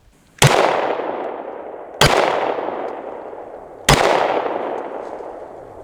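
Three single shots from a Glock 17 pistol, each a sharp loud crack with a long echoing decay, spaced about two seconds apart outdoors.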